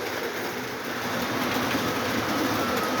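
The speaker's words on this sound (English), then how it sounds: "There's one coming through the train bridge all lit up for Christmas." Two Lionel toy steam engines run on a Christmas layout, one crossing a lit-up train bridge while the other passes underneath, making a steady, continuous rolling rumble and rail noise with no talking.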